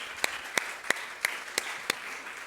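Six separate, evenly spaced claps ring out in a church during a worship service, each sharp and fairly near, against a quiet background.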